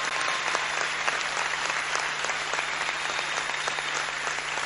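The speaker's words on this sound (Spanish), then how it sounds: "un aplauso para él." A crowd at a factory inauguration event in Argentina gives sustained, dense applause that stays loud and even throughout, with a faint steady hum beneath it.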